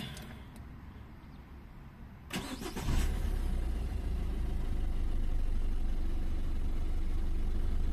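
A car with a clogged diesel particulate filter is switched off and back on: a few seconds of near quiet with small clicks, then the engine cranks and catches, settling into a steady, close idle.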